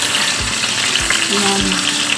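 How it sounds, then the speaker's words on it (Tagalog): Lamb meat fries in a pan alongside sautéed chickpeas, a constant close sizzle broken by a few soft thumps and scrapes of stirring. "ipiprito natin ng konti yung ating meat, guys. Sama dito sa ating ginisa na chickpeas."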